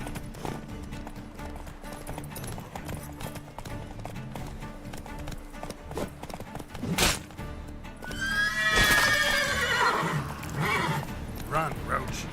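The horse Roach gallops in The Witcher 3, with rapid clip-clop hoofbeats and a loud whinny partway through, all under game sounds and voices talking.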